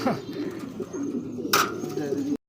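Pigeons coo softly in low, repeated throaty calls, close by, with a brief burst of rustling noise partway through.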